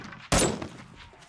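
A single close, loud gunshot in the video game 7 Days to Die, a sharp crack followed by a short decaying tail, with faint background sound around it.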